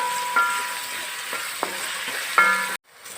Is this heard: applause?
no